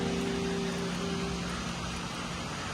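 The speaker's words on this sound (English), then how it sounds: "Here comes the rain." Monsoon rain falling in China, a steady dense hiss that stays loud and even throughout, with a faint low hum running underneath.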